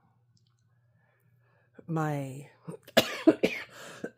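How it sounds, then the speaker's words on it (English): A short dry cough from a person with an irritated airway after chemotherapy, followed by a few quick coughs and throat sounds, close and fairly quiet, with a brief spoken word. "that cough is just irritation in my airway from"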